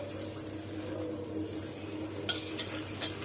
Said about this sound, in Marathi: हे चांगलं असं हातानेच मिक्स करून घ्यायचं आहे